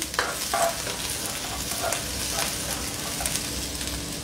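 Ginger and garlic sauté in hot oil for a vegetable dish of carrots and cabbage, a steady close frying sizzle with faint stirring scrapes throughout, no voices.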